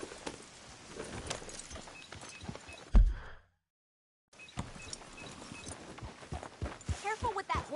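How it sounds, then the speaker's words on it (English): Horse hooves clip-clop in the Red Dead Redemption 2 video game, a steady walking rhythm running under game dialogue, cutting out briefly for a second of silence before resuming with more talking. "Careful with that horse, Arthur"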